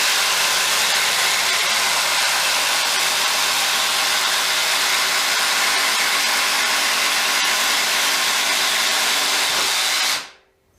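A Bosch GDX 18V 200C cordless impact driver runs as one continuous, fairly loud broadband whir and hiss for about ten seconds, then cuts off abruptly into silence.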